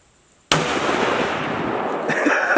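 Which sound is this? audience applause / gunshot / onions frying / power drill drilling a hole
gunshot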